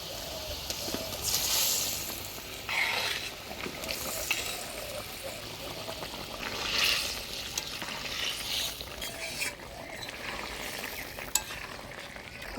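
Koi fish slide into hot oil in a Bengali village kitchen, a steady crackling sizzle with stirring scrapes running throughout, fairly close and continuous with no speech.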